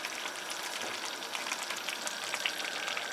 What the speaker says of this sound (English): You can hear the crispiness, and then you can feel the boiling of the oil